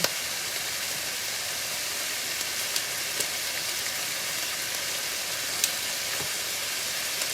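Beef frying crisp in a pan makes a loud, constant hissing sizzle, even from start to finish, with a few faint pops and no talk over it.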